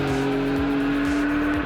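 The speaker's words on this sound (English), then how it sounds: "This is the best sounding turbocharged engine that I've heard" A 2019 Porsche 911 Carrera S with its turbocharged engine, roaring loud and close in a sustained, steadily pitched drone with gear-change dips, sounding like a hard run on a racetrack.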